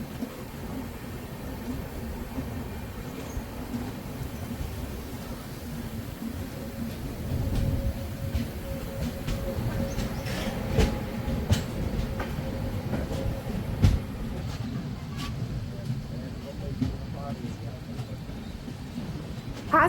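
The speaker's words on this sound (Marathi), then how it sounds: "रत्नागिरीहून ही ट्रेन आता निघाली आहे" A train pulls out of Ratnagiri during the monsoon with a steady rolling rumble and scattered clickety-clack wheel knocks, the sound building slightly as it gathers pace.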